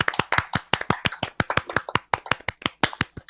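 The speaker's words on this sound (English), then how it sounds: "We round the applause for Yaldi," A small group applauds a person who designed a new logo, sharp individual hand claps in an uneven rapid patter, close and clear with no talk over them.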